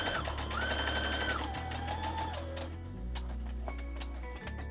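A sewing machine stitches a fleece plush toy seam to the end, its motor whirring close and steady with rapid ticking needle strokes, speed dipping and slowing in steps before stopping briefly near the end.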